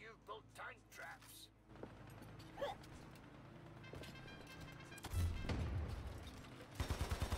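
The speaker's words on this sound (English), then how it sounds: "That grenade launcher against tanks is so good." Repeated gunfire and booming launcher shots in a tank fight within a shooter game, rolling bursts building toward the end, with people talking over the first part.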